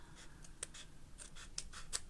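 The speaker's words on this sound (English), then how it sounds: "I'm just going to bring in my scissors and just trim that" Scissors snip paper trim during a card-stamping craft session, giving three or four faint, crisp cuts spaced irregularly against quiet room hiss.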